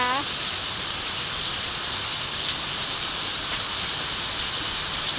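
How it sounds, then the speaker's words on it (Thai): Heavy rain pours down steadily, a dense, continuous hiss of drops drumming on surfaces close by. "ฝนตกหนักหนักมากเลยนะคะ"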